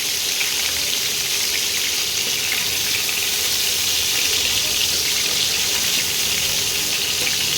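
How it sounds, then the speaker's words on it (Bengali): Chicken pieces fry in a pan with a steady, bright sizzle and crackle that runs without a break at moderate loudness, with no voices over it. "প্রতিটা মাংসকে এভাবে ভেজে নিতে হবে। আমি এভাবে ভেজে দিচ্ছি।"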